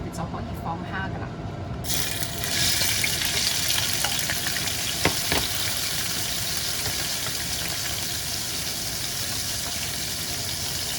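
Thawed frozen shrimp go into several spoonfuls of oil heated on high flame for Hong Kong–style scrambled egg with shrimp. After a brief quieter start, a strong, even hiss and sizzle comes in and holds steady.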